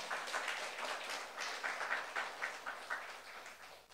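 Church congregation applauding during a Saturday youth worship service, a dense steady wash of many hands clapping at moderate loudness through the whole stretch, with no voices over it.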